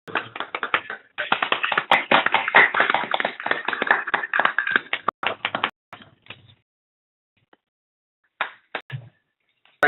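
A small audience claps after a mathematics lecture: dense, close hand claps for several seconds that thin into scattered claps, fall silent, then return briefly near the end.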